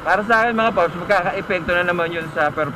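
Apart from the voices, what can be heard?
No distinct noise like a dog, phone or traffic.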